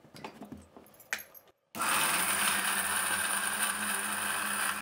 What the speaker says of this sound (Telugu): ఇప్పుడు అల్లం చట్నీ కూడా చల్లారిపోయిందండి, మిక్సీ పట్టేద్దాము